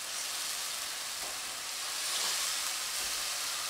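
A steady, bright sizzle comes from a pan of pasta sauce with chopped olives and sun-dried tomatoes being stirred, with soft scraping movements under the continuous frying hiss and no talk.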